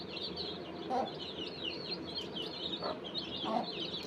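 A hen clucks among her chicks as they chirp for grain, with a steady stream of thin, high peeping and a few low clucks close by over a rustling outdoor background.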